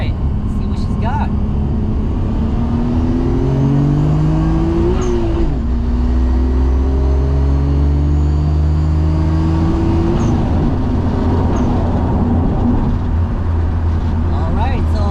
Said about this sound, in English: So those twin turbos, sequential twin turbos, definitely no slouch in this car.